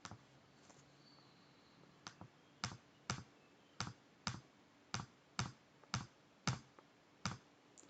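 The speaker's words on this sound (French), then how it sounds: "Donc ça, on tape à la calculatrice." Fingers pressing number keys on a calculator keypad, a series of about a dozen sharp, distinct clicks at an uneven pace, close and clear against a quiet room.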